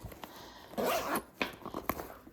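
A zipper on the back pocket of a Coach Easton tote being pulled, heard as a brief rasping burst followed by a few short scratchy zips and small handling clicks, close and fairly quiet with no talking.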